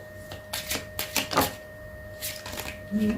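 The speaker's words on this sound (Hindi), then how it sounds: "तो पाइल नंबर 1 हम पहले आपके लिए कार्ड्स निकालेंगे" Tarot cards shuffled and drawn from a pile give a series of crisp, close slapping and flicking snaps in an uneven rhythm, with brief low murmuring underneath.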